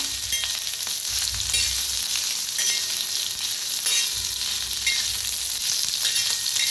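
Green chillies roast and crackle in a pan over low heat, a steady close sizzle with faint stirring scrapes running throughout, no voices.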